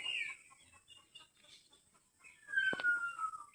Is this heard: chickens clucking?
yes